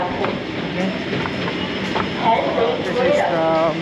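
Metro train at Motijheel Metro station in Dhaka, a steady rumbling station din with rail and carriage noise throughout, rising briefly near the end with tonal whine, while someone talks over it.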